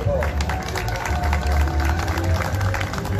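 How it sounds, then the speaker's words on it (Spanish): An audience at the 2019 Jacalteca marimba cultural festival gives a welcoming round of applause, a steady dense patter of clapping mixed with crowd noise and a low hum, lasting throughout. "recibamos con fuertes aplausos, por favor"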